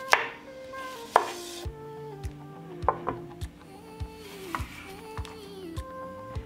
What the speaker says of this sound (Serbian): Iseći ću krastavac